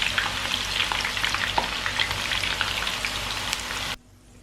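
Ginger and garlic frying in a pan of oil with browned cumin, a steady close sizzle with scattered pops and crackles that cuts off abruptly near the end.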